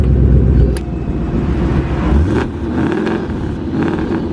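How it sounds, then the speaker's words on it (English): A 2011–2014 Ford Mustang GT V8 with an Xforce active exhaust revs up in a deep, loud rumble, rising and swelling through a few throttle blips close by, with no talk. "Now give it a little rev."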